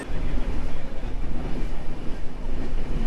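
Ruposhi Bangla Express pulling out of Chandrakona Road station, a steady, loud low rumble of rolling wagons with wind buffeting throughout and no distinct horn or clatter.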